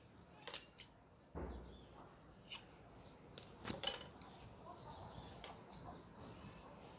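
Scissors snip through cloth while a chudi collar neck is cut at a tailoring table, giving a few sharp, close clicks and one fuller cut amid quiet handling sounds.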